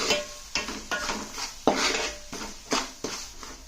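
A metal spoon stirs mustard powder into Nellore-style fish curry in a pan, scraping and clinking in about nine rhythmic strokes close up, with a faint sizzle underneath and no talking.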